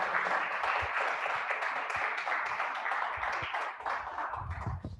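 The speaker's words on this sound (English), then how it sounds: "let's hear a big round of applause for Logan Gayton" A crowd at a STEAM cafe event gives a round of applause, a fairly quiet, even wash of clapping lasting about five seconds, with faint voices and thumps near the end.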